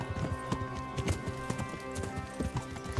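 Horse hooves clip-clop in the medieval video game Kingdom Come: Deliverance, a steady walking rhythm of close, distinct hoof strikes over a low background hum, with no talk over them.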